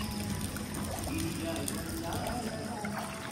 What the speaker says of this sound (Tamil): அப்படியே ஆப்போசிட்ல தண்ணி போயிட்டு இருக்கு ஃப்ரெண்ட்ஸ்